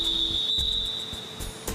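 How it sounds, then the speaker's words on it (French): A referee at a swimming competition gives a few short whistle blasts at the starting blocks, sharp bursts over a steady high tone and background noise, no talking. "Le juge-arbitre effectue plusieurs petits coups de sifflet."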